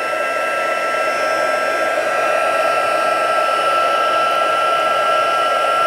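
A heat tool blows hot air steadily and loudly for the whole stretch, a continuous whooshing hiss with a faint high whine, used in a simple paper-craft advent calendar project.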